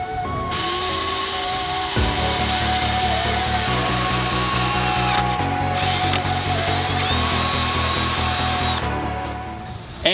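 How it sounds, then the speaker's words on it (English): A power drill boring a 3/32 inch hole in the wooden frame of a go-kart, a loud steady motor whine running almost the whole time with slight shifts in pitch as the bit cuts, no voices. "I'm actually gonna drill a new 3/32 inch hole just a little bit further back so it lines up better"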